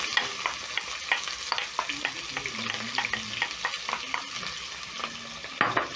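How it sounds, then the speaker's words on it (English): Onions frying in rendered rabbit fat in a pot, with a steady close sizzle broken by repeated scraping stirs over about six seconds. "I'm going to add in my onions in the same pot"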